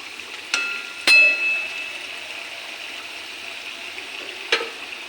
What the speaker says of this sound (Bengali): একটু হালকাভাবে লাড়া হালকাভাবে একটু জলের সঙ্গে মাছটা মিশিয়ে নিই